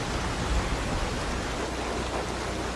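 Rain falling steadily: a dense, even hiss of rainfall with no breaks, loud and close, with no talk.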